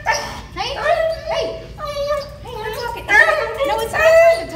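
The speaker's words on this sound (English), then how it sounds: "I've got a very vocal pup here with me today" A Lab mix pup barks and whines repeatedly in a vocal, close-up string of yips, whimpers and bow-wows, with a person talking between the sounds.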